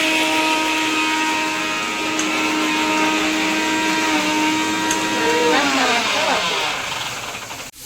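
A mixer grinder whirring steadily while grinding whole spices such as cumin, cinnamon, cloves and cardamom, a loud continuous motor drone that winds down near the end.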